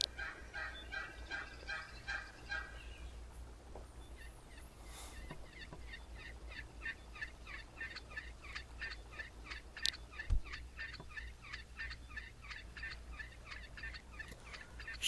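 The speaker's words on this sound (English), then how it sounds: "Got some ducks here" Ducks in the Second Life video game, a rapid series of nasal quacking calls repeating in a fast rhythm over a quiet background hum.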